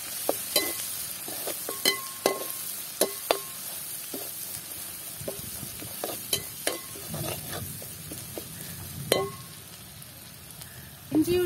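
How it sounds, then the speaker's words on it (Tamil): Ginger and garlic sautéing with fried onions in a pan for Sri Lankan devilled chicken, a soft sizzle beneath repeated sharp scrapes and taps of a spoon stirring against the pan. "இஞ்சி உள்ளி வதங்கி நல்ல வாசனை ஒன்று வருது."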